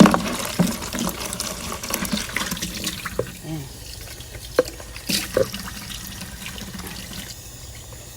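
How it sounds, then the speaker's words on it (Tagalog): Water runs and splashes into a container at close range, with scattered clatters and a brief spoken word near the start. "Lagyan natin ng tubig."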